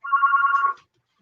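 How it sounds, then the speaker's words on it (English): A telephone rings once in a radio station studio, a single short electronic trill close and clear, then silence. "It's a phone call."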